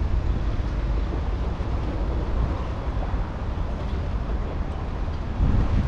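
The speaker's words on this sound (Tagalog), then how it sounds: "Mahangin." Steady, heavy wind buffeting close by, a continuous low roar rushing across the microphone without a break.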